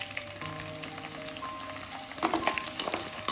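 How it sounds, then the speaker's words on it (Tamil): Dried red chillies frying in a pan of oil for Pallipalayam chicken, a steady soft sizzle with scattered crackles that grow louder and busier near the end, with no voices. "மெயினான ஐட்டம் காஞ்ச மிளகாய் ஆட் பண்ண போகிறோம்"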